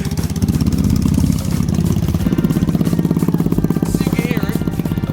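A Lifan motorcycle engine idles close by, running loud and steady with a rapid, even chugging rhythm and mechanical clatter throughout.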